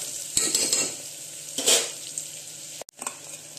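Onion sizzles and fries in a pan while being stirred, with scraping and light clinks of a spoon over a steady crackling hiss.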